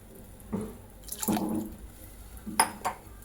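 Water is poured in short splashing bursts into a pan of moong dal and dill, three brief gushes with quiet gaps between, close and fairly soft.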